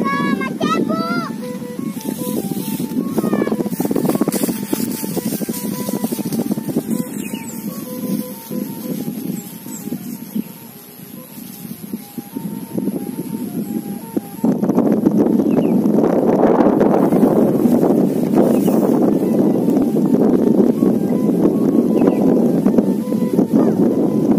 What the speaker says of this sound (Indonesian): Kencang anginnya, kencang sekali.